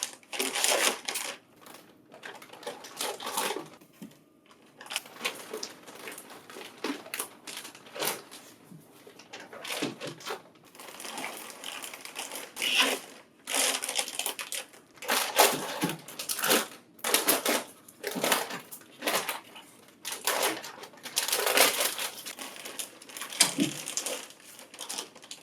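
Foam packing being pulled off and plastic wrap torn open around a Lexmark XC9525 color imaging kit, a busy run of close crinkles, rustles and sharp crackles in uneven bursts.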